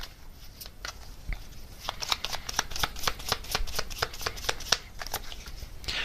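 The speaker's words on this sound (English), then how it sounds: "let's get some message cards from your person" Message cards shuffled by hand in a reading, a run of crisp riffling flicks and soft slaps that grows busier after the first couple of seconds, close and clear with no talking.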